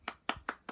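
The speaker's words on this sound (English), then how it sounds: "clap for the NHS" Four separate hand claps in a quick, even rhythm, faint and slightly distant, people applauding the NHS at eight o'clock.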